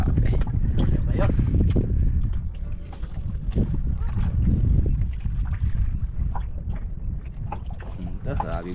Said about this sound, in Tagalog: Grabe hangin ay.